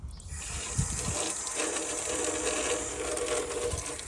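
Water gushing and splashing steadily while an HVAC unit's coils are cleaned of cottonwood fluff, a loud continuous rushing spray close by with a few low thumps at the start.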